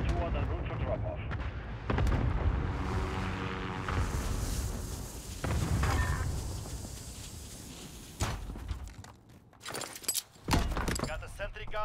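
Cluster strike explosions in Call of Duty Modern Warfare: a chain of heavy booms and rumbling blasts across several seconds, with sharp impacts near the end, mixed with players talking over the action.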